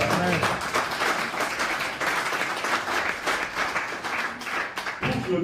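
Loud, sustained applause from a church congregation fills the space, steady dense clapping with some voices mixed in, briefly dipping near the end before surging again.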